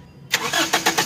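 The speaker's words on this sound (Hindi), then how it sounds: "गाड़ी स्टार्ट हो गई है" A car with a failing camshaft position sensor catches and fires up after a short silent pause, then runs with loud, rough pulsing engine surges at close range.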